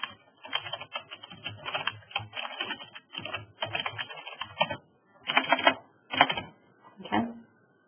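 Someone types on a computer keyboard nearby in quick clattering bursts, separated by short pauses, with a few isolated key taps toward the end.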